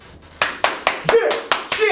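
A run of sharp hand claps, eight or so in quick uneven succession over about two seconds, loud and close, with faint room noise between them.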